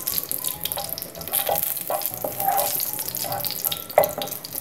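Whole cardamom pods sizzle and crackle in hot oil in a pan, a close, steady frying hiss with small pops and occasional stirring scrapes.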